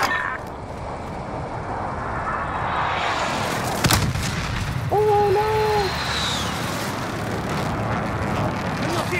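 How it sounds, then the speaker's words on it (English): Airstrike explosions in an online shooter video game: a sharp blast near the middle stands out from a dense, rumbling wash of distant booms and battlefield noise that continues throughout. "Airstrike, watch out."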